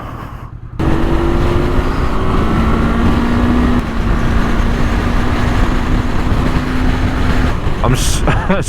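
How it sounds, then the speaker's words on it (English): Car engine braking while descending a very steep hill, a steady loud low engine drone with a sustained whine, preceded by a brief quieter moment at the start. "Thank God for engine braking."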